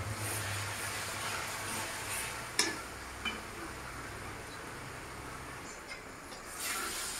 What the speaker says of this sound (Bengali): এখন পেঁয়াজটাকে আমি খুব ভালো করে লাল করে ভেজে নিচ্ছি।